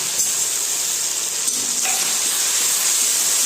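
Tomatoes hitting hot tempering oil with asafoetida, chilli-ginger paste and garlic give a steady, loud hiss and sizzle that runs evenly throughout.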